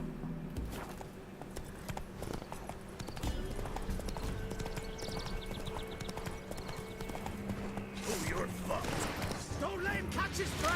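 Hooves of the horse in The Witcher 3 clip-clop in a quick steady rhythm over game music and ambience, with someone talking over them and brief vocal sounds near the end.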